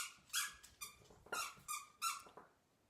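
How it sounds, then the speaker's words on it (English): A dog's squeaky toy squeaks repeatedly in the background, six or so sharp, high squeals in quick uneven succession, fairly faint and heard alone without talking. "I don't know if you can hear that squeaky toy"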